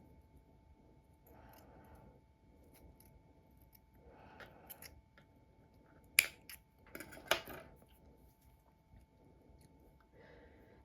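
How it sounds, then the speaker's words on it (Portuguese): Scissors snip through crochet yarn, a couple of crisp close cuts near the middle amid quiet handling rustles and soft background noise. "Eu vou cortar para não atrapalhar vocês."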